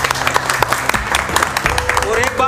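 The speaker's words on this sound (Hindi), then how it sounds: "और एक बार देव सर के लिए ताली बजा दो," A class audience at a phone repair training session claps in a short, loud burst of close applause, with voices mixed in.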